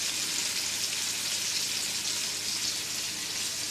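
Country style ribs searing over a hot fire give a steady, dense crackling sizzle like fat spitting on a grill, loud and unbroken from start to finish with no voices.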